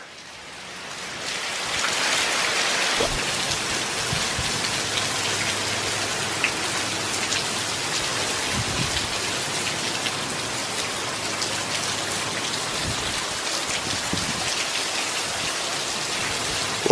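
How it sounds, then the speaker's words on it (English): Heavy, continuous hurricane rain pours down loudly and steadily, a dense hiss with occasional louder splashes and no voices. "So the rain's finally here"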